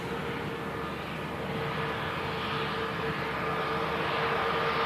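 An EasyJet Airbus A320neo jet arriving from Alicante gives a steady, moderately loud broadband roar with a faint whine, heard alone from some distance for several seconds.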